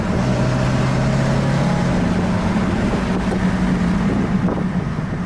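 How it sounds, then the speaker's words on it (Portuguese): A Toyota Fielder on a test drive along a potholed street outside a repair workshop after a major service, giving a steady, moderately loud engine drone under constant wind and road noise, with no talking. "Vou acelerar um pouquinho."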